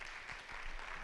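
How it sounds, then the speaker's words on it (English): Audience applause at an urban forum in Ghana, a brief steady wash of many hands clapping, fairly faint and distant. "Another round of applause."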